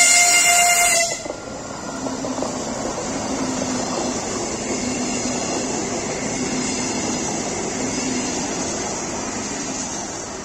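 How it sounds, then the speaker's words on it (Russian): A Lastochka suburban electric train on the Iglino–Dema run rolls past after a brief sharp horn blast, leaving a long, steady rumble of wheels and carriages that holds evenly to the end. "А сейчас мы ждем пригородную электричку «Ласточка», которая выполняет рейс Иглино-Дема."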